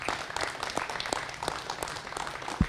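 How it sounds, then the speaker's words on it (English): Audience applauding Detective Derek Werner at the close of a radio program, with a scattered patter of moderate clapping from a modest group and a brief thump near the end. "let's give a round of applause to Detective Werner for all of his great work here"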